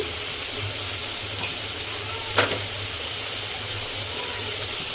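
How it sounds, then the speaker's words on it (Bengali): Spice masala of turmeric, chili powder, salt and cumin powder frying and being stirred in a pan for a fish curry, a steady loud sizzle with a couple of brief scraping strokes. "এবারে মশলাটা একটু ভালোভাবে কষিয়ে নেব"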